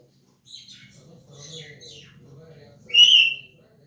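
A pet bird whistles indoors in soft, short warbling phrases near the microphone, ending with one louder, clearer whistled note, while someone talks quietly underneath.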